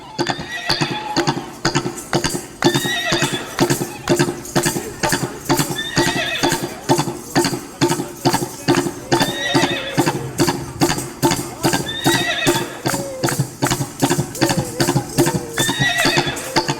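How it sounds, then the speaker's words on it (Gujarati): Tabla played in a galloping horse rhythm at a devotional dhun gathering held as a memorial tribute, with loud, steady, rapid strokes repeating evenly throughout alongside other accompanying sounds. "આ તબલા ઉસ્તાદ તબલા ઉપર એ ઘોડીલાનો તાલ વગાડે"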